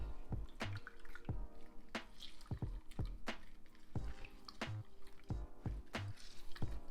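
Halved orange squeezed by hand into a crock pot for mulled wine, with a series of quiet, close wet squishes and drips falling into the pot at irregular intervals.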